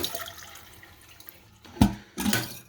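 Water from a toilet running after its flapper stuck, heard as a faint trickle followed by two louder bursts of rushing water near the end.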